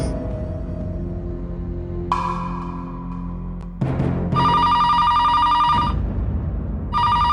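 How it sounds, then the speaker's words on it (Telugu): A telephone rings during a party scene in a Telugu TV serial: a low hum and scattered noises first, then bright electronic ring bursts, one long and another starting near the end, fairly loud and clear. "ఫోన్ అరే ఫోన్ ఇప్పుడు వచ్చిందేంటి?"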